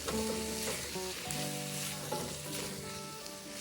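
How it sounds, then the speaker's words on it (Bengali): Chicken with potato, carrot, papaya and tomato pieces is stirred in hot oil for a chicken stew, producing a close, steady sizzle under background music. "সব কিছু একসাথে তেলে একটু নাড়াচাড়া করে নিই।"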